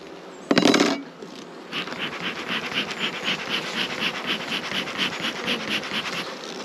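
Honey bees buzz around an open hive in an apiary, a steady, close, pulsing drone after a short sharp rustle at the start, with no talking.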